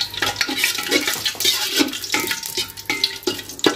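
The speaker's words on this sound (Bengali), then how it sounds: "গরম মশলাটা ভাজা শেষ।" Whole garam masala spices fry in oil in a pan for chicken biryani, with steady sizzling and repeated scraping stirs of a spoon at a quick irregular rhythm, close and fairly loud.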